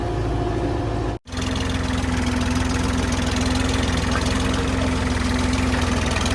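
A large Massey Ferguson tractor engine idles on a farm, with a loud, steady, close diesel rumble and a brief dropout near the start.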